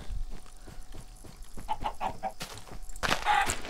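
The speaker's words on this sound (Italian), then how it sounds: "Tra l'altro qua ci sono ancora galline." Minecraft chickens cluck in short repeated bursts, a game-like flock of fowl sounds, ending with a louder, brighter squawk near the end.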